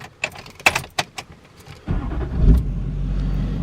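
A Chevrolet Silverado truck's engine cranks and catches after a few clicks and jangling keys, then settles into a steady idle close by.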